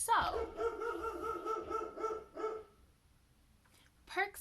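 A dog barks in short bursts close to the microphone, then pauses before a final brief yip.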